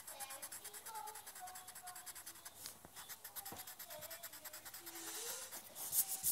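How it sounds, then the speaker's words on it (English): Repeated light scratchy strokes of an eraser rubbing out geometry working on paper, a quiet, steady back-and-forth texture with brief sharper scrapes, no voice present. "again, I'm going to erase this."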